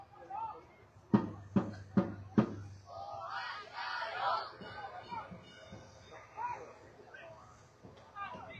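Fans at a youth football match shout and cheer beside the pitch, with several sharp bangs of clapping or drumming early on, then a loud, rowdy crowd chant and chatter that carries on to the end.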